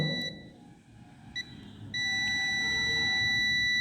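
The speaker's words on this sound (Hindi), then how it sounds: "तो बीप का आवाज़ आ रहा है, इसका मतलब कि प्रॉपर बॉडी अर्थिंग मिल रहा है।" A continuity tester checking the ground wire of a reverse parking sensor gives two brief electronic beeps, then a sustained high-pitched tone that holds steadily to the end.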